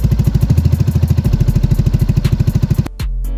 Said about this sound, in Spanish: arrancamos la moto para que el aceite se mueva en el motor